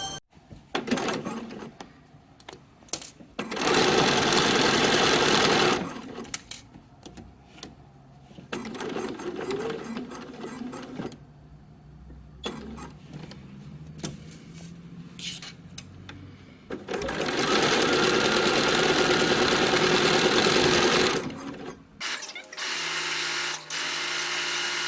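A sewing machine stitches around the outer edges of a shirt collar with interfacing on the bottom, running in three long bursts of steady whirring, separated by quieter pauses filled with handling sounds.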